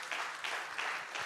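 Audience applause for a speaker at a Bitcoin talk, a quiet, steady patter of clapping from a room, fairly distant and without speech over it.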